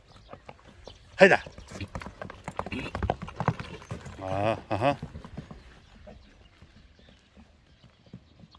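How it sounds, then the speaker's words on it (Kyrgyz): A horse's hooves clip-clop on concrete at a fairly close distance, with people talking throughout and a brief loud burst partway through. "Аттын умтулуштары."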